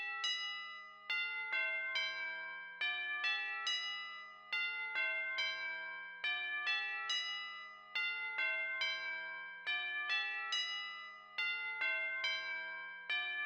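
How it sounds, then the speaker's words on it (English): A tubular bells campana preset in FL Studio plays a melodic pattern of bright, ringing metallic strikes with sustained decaying tones and added ambience, repeating steadily and alone. "Last melodic instrument is this bell. This is the tubular bells campana."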